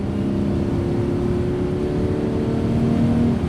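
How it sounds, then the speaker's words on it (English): A Porsche 981 Boxster S with sport exhaust and a six-speed manual gives a steady, moderately loud engine drone from close by with no talk. The pitch holds fairly even, and no clear pops or bangs stand out. "the sport exhaust, especially with the pops and bangs that this thing makes"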